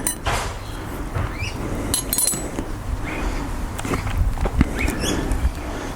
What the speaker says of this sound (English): So this is the toolkit.